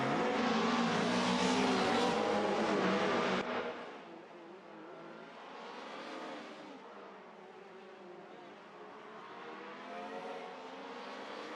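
Race cars in the Live for Speed racing game roar past while overtaking, a loud engine blare that drops abruptly, then a steadier, quieter drone of several cars running together.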